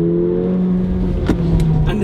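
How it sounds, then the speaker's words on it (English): A Mercedes-Benz GLA45 AMG engine pulls hard on a track lap, a loud, close, steady drone whose pitch holds and then rises slightly under acceleration, with a couple of brief sharp noises. "And the engine sounds so nice."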